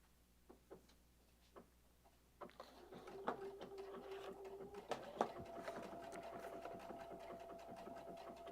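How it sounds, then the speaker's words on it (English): A sewing machine stitching fabric, starting with a few slow clicks and then running into a steady whirring hum with rhythmic needle ticks, fairly quiet and recorded close. "And then we're just going to start sewing."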